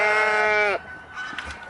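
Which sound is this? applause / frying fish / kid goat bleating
kid goat bleating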